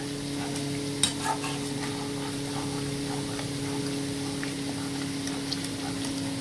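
Mutton curry fries in a pan under continuous stirring: a steady sizzle with soft scraping strokes and occasional light clinks, close by over a low constant hum.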